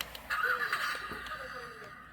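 A Tobot C toy car robot plays a short electronic engine start-up sound effect, a bright rising tone lasting about two seconds, close and fairly quiet.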